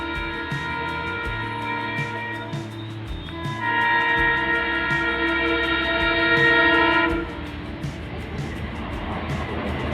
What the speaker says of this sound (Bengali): হর্নের আওয়াজ কিন্তু শোনা যাচ্ছে।